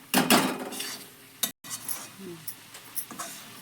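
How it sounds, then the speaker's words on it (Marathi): Wild vegetable greens, salted, stirred in a metal pan with a spoon. Several clattering scrapes and clinks come up close, then softer stirring follows with a faint sizzle underneath. "आता पूर्ण हलवून घेऊया बघा आता आपण असंच पाच सहा मिनटं हलवून घ्यायचं चांगलं"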